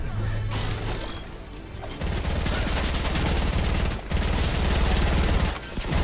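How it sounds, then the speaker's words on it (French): Rapid automatic gunfire in a battle-royale style video game rattles in dense, sustained bursts, loud and close, with brief pauses between volleys. "Il tire dessus"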